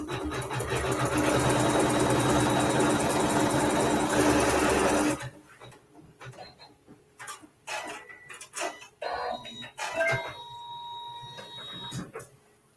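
A sewing machine stitches a tack-down seam on a quilt block, running steadily and loud for about five seconds, then a quieter stretch of faint clicks and handling noises follows.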